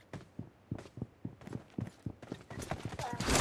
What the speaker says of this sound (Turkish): Ayak, ayak sesi var.